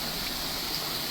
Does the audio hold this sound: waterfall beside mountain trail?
yes